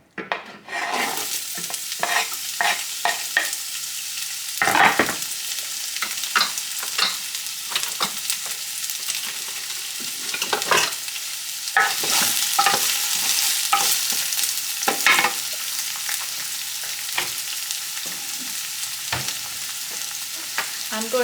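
Onions frying in oil in a pan, a steady close sizzle running throughout with scattered stirring scrapes and clicks, no talking.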